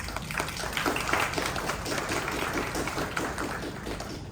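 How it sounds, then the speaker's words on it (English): Audience applause after a speaker's call for recognition at a women-in-aviation keynote, a dense, steady wash of many hands clapping that holds evenly throughout with no voices over it. "please give them a round of applause"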